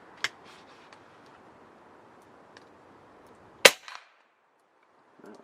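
A Snowpeak M60B .357 (9mm) big-bore air rifle fires one sharp, loud crack mid-clip, with a few faint clicks and ticks before it and quiet afterward.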